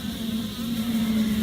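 Honeybees buzzing around an open hive during a beekeeper's first inspection, a continuous close, loud drone with a steady pitch and no talking.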